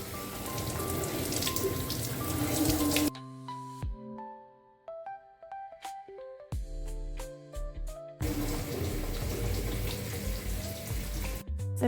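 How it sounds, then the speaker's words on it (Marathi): Tap water runs over tomatoes at a kitchen sink in a steady, close splashing rush. It breaks off briefly for a few seconds of drips and small clinks, then the flow comes back. "रात्री टोमॅटो आणले होते आणि ते वॉश करायचे राहून गेले होते. ते काम आता मी इथे संपवलं."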